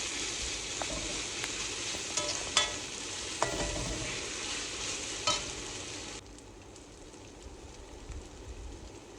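Ginger garlic paste sizzles and spits in a pan for spicy egg roast, with a few clinking stirs early on, then the frying drops to a quieter hiss.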